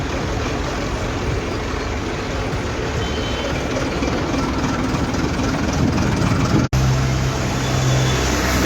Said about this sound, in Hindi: हम अब एक ट्रैक्टर पर सवार हो गए।